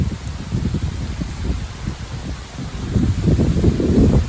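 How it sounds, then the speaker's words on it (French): Strong wind gusts during a sleet shower roar and buffet against the microphone, swelling louder toward the end, with a rushing, rattling texture and no voices. "Les rafales de vent qu'il y a."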